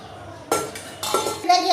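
A small metal pot being washed gives a few sharp clanks and knocks in quick succession, loud and close.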